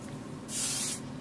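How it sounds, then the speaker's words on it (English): One short hissing burst of hair product sprayed from an aerosol or pump bottle onto a lace front wig, close and loud, lasting about half a second over a quiet room background. "So oftentimes I'll just like spray a little something on it"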